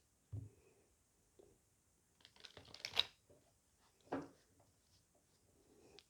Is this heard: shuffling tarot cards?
yes